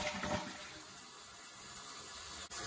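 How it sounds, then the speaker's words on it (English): A toilet tank flushes with a steady, low rushing of water that runs the whole time, with no talk over it. "flush the tank"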